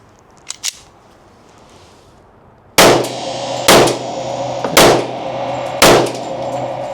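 A Smith & Wesson M&P 10mm pistol firing Sig ammunition lets off four loud, sharp shots close by, about one per second, after a few faint mechanical clicks.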